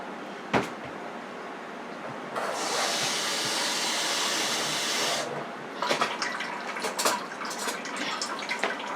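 Tap water running into a cup in a kitchen while making a BBQ pulled beef sandwich: a steady hissing stream lasting about three seconds, framed by clicks and knocks of handling the cup before and after.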